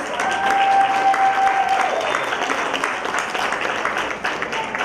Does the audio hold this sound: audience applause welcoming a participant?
yes